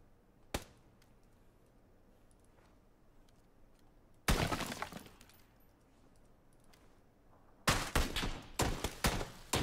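Gunfire in PUBG: a single sharp shot, then a burst of cracking reports with echoing tails, a quiet gap, and a final rapid volley of loud shots, all with no talking.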